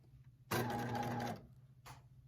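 A sewing machine runs a short burst of stitching along a fabric seam, edge at the presser foot, about a second of rapid close mechanical chatter, then a brief second whir; quiet room otherwise.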